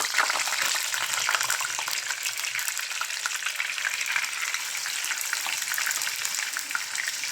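Tofu frying in oil in a hot pan gives a steady, dense, close sizzle with fine crackling throughout, alone without talk.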